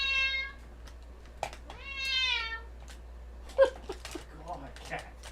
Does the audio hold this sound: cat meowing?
yes